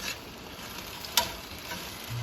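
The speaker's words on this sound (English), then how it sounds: "we're going to add spinach by the handful" Baby spinach sizzling in olive oil in a preheated pan, a steady soft frying hiss with light stirring and one brief sharp click partway through, fairly quiet and with no talking.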